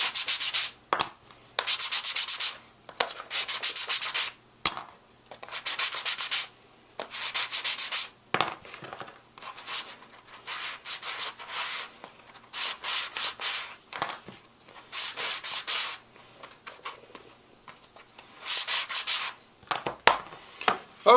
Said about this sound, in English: we're going to sand them out to the point we're happy with